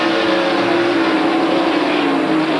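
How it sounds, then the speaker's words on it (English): Kyle Petty's Pontiac stock car, racing in the 1993 Splitfire Spark Plug 500, drones loudly and steadily under caution, its engine note falling slightly as it comes onto pit road. "He now brings his Pontiac to pit road."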